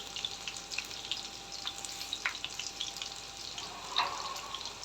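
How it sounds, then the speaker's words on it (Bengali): Boiled potatoes fry in hot oil, giving a soft, steady sizzle with scattered crackles and a few louder pops, fairly faint and heard alone without talk. "আমি আলুটাকে আগে সিদ্ধ করে নিয়েছি, এখন এটা আমি তেলে ফ্রাই করতেছি।"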